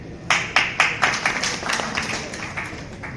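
Scattered, uneven claps ring out from an audience of journalists at a media association event, starting as a few sharp hits and swelling into a loose patter of applause at moderate distance.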